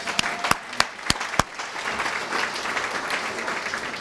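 Applause at a chamber of commerce annual meeting: a few sharp, separate claps open, then the clapping builds into steady applause from the room at moderate loudness.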